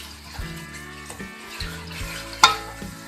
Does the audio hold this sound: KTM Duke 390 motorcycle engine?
no